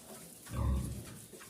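A short, low grunting snort from piglets, swelling briefly in the middle and fading out, heard up close with no talking.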